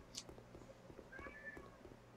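A pet cat meows nearby, a single soft, drawn-out meow heard faintly indoors over quiet background noise.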